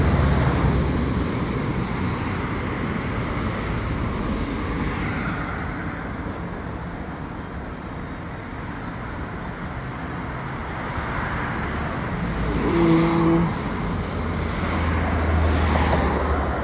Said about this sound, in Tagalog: Dito lang ako sa highway ng airport.